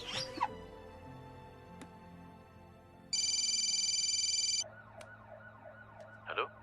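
A telephone call rings out in a Hindi film scene: a steady electronic ring tone, then pulsing lower beeps, with brief clicks around it and no talk over it.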